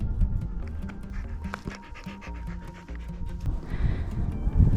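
A curious dog pants steadily at close range on a sailing boat, the quick rhythmic breaths continuing for several seconds with slight shifts in loudness and no talking.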